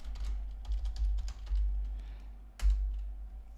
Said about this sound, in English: I'll type it in chat here.